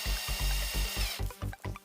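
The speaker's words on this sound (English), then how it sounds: "Give her a bit of a drill, give her a bit of a tap" A drill bores a hole for a chassis-mounted shifter mount on a BMW E46, giving close, rhythmic grinding pulses that grow choppier and more staccato toward the end.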